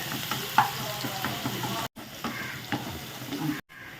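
Onions are sautéed in a pan for a fish curry, giving continuous sizzling and frying with stirring scrapes. The sound runs close and steady, with two brief cut-outs.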